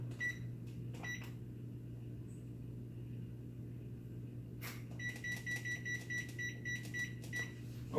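Oven timer being keyed in for 26 minutes, with clusters of short electronic beeps over a steady low appliance hum, a quiet stretch in the middle, then a rapid run of beeps near the end; no talking.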